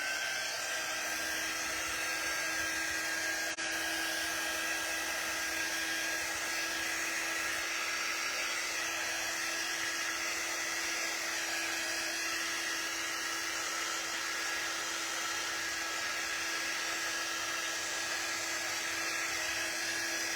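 A hair dryer blows with a steady, unbroken whir and high whine, drying a paste-based dandelion flower craft project, close and constant throughout.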